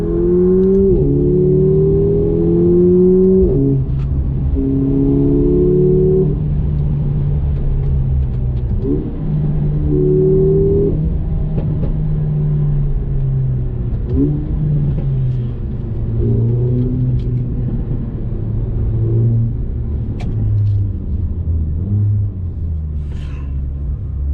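Mercedes CLA 45 AMG engine rumbling loudly with rising and falling revs and intermittent exhaust crackles, close and continuous with no talking.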